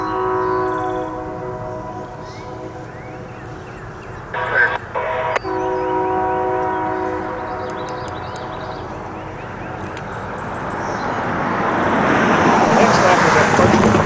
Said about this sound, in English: you may blow your horn too